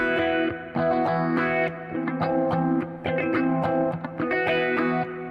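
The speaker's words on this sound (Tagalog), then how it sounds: "Okay, so ito yung ano natin, yung clean sound natin na may phaser." Clean electric guitar through a phaser effect on a Tank-G hybrid multi-effects setup, played as a run of picked notes and chords, loud and close with no talking.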